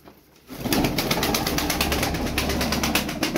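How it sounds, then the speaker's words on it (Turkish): Pigeons flapping their wings close by, a rapid rhythmic beating that starts abruptly and keeps going steadily at full loudness. "Ama bir kanat sesi var."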